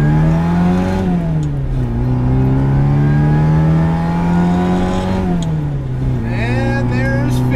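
A supercharged left-hand-drive 1967 MGB GT pulling at full throttle, with the engine droning steadily and loudly from inside the car, its pitch climbing through gear changes, and a brief voice heard underneath.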